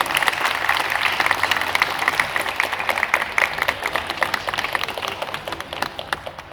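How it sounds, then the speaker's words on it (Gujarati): A women's association audience in Surat bursts into sustained applause, dense clapping from many hands holding loud throughout and thinning slightly at the end. "તાળીઓના ગડગડાટ થઈ જાય"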